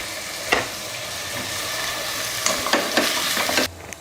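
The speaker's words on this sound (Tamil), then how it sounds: "இப்போ இதில் தக்காளி சேர்த்துடலாம்" Tomato goes into a pan of sizzling onions for a potato kurma, keeping up a steady frying hiss. Bursts of spatula scraping and stirring come at the start and again toward the end.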